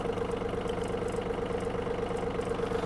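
Yanmar F-200 mini tractor engine runs at a steady idle with the power take-off engaged, a constant close, low mechanical drone with an even throb and no voices.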